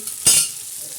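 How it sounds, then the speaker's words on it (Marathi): Hot tempering crackles in oil for a bitter gourd curry, one brief, bright sizzling burst rising sharply and fading within a fraction of a second, close and fairly loud, with no talking. "खूप छानसा तडका बसलेला आहे"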